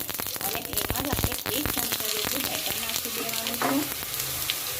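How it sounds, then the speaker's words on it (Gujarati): Mustard seeds and white sesame seeds sizzling in hot oil for dudhi handvo, a continuous close crackle and spatter with sharp pops, while a voice speaks over it. "આ રીતના આપણે રાઈ અને સફેદ તલ નાખી દેવાના છે"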